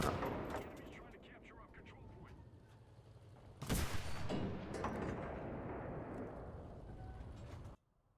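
Artillery barrage in the WWII shooter Enlisted: a heavy distant boom lands, followed by a sustained rumbling roar of shelling and gunfire that fades out abruptly, with talk over the opening.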